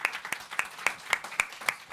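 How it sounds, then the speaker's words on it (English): A small audience at an affordable-housing summit claps for the panelists, with distinct, fairly sparse handclaps picked out at a moderate distance in a quiet room. "let's give a round of applause for our panelists."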